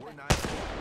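A burst of gunfire from an Apex Legends weapon, a loud sharp report followed by a short decaying tail, up close.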